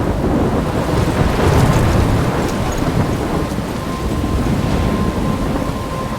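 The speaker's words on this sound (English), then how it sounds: "I'm trapped in a storm?" Thunderstorm in the video game Life Is Strange, with heavy rain and wind and rolling thunder rumbling loudly and continuously, close and enveloping, with no voices.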